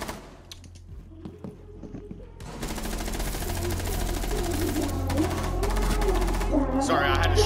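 Rapid automatic gunfire in the video game Rainbow Six Siege breaks out after a quieter start and continues as a loud, sustained burst with voices talking in the background.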